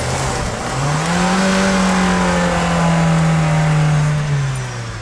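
A 4x4 vehicle accelerates on sand, its engine rising into a loud, sustained drone that holds steady for several seconds and then eases off slightly near the end, close by with no talking.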